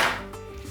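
A knife cuts through the end of a single eggplant on a board, one short, close slice.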